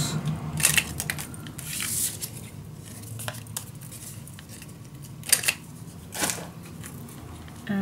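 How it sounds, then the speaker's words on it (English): Scissors snipping the corners off paper or card while making a scrapbook secret storage box, several crisp, close cuts spread out over a quiet background with soft handling rustle. "Now cut the corners."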